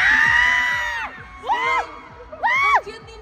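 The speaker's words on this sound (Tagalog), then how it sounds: "Sinong tumitili?" Fans at a TikTok fashion show scream and shriek loudly and continuously, with high-pitched rising squeals that come in bursts from a crowd close by.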